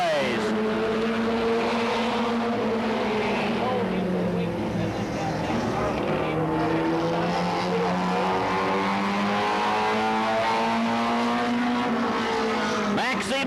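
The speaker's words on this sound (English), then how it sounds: "Maxie Bush putting that Louise Smith special through his paces. Here he comes on lap number 1." A Louise Smith All-Pro Tires Pontiac, Goody's Dash race car, on a qualifying lap at Anderson, South Carolina in 1988, its engine droning and sweeping in pitch as it passes, steady and loud under an announcer talking over a PA.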